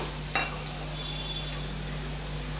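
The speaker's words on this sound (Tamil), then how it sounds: "இப்போ நல்லா வதக்கி விட்டுறலாம் கொஞ்சம் வெங்காயம் நல்லா வதங்கட்டும்" Shallots and onions sizzle steadily in hot oil for a dried fish curry, a continuous frying crackle with a faint clink of a utensil near the start.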